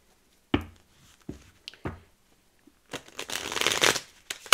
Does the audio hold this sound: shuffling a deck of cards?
yes